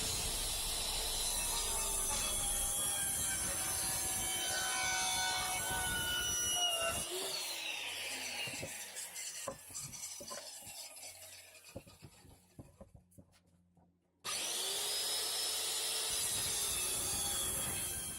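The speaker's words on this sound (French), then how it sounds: "Donc maintenant un petit coup de scie." A hand saw cuts through wood for a garage shelf, giving steady rasping strokes that slow and thin out. A few sharp clicks follow a near-silent gap, then a renewed burst of hiss.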